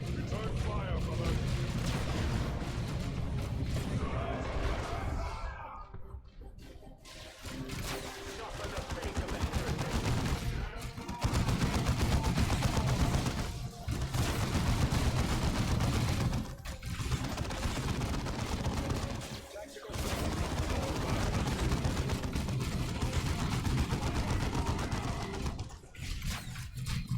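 Battle gunfire from Dawn of War II rattles in bursts across a long stretch with short breaks between volleys. Game voices and ambient battlefield noise run under and between the shots.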